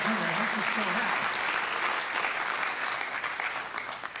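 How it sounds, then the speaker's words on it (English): A concert audience gives a sustained round of applause for volunteers, dense clapping filling the room, with a brief tonal sound at the start before the clapping tapers slightly toward the end. "So give everybody a round of applause."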